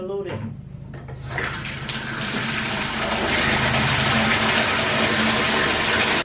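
Water poured from a bucket rinsing hair on wash day, a continuous loud splashing gush that builds and holds steady, with a brief voice at the start.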